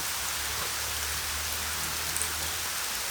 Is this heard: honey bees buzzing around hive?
no